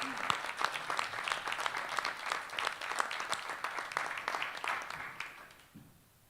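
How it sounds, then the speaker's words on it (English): Audience applause closes a public debate on immigration enforcement, a sustained crowd of clapping hands holding steady for about five seconds before fading out near the end. "Another round of applause for our moderator, Mr. Casey Mattox"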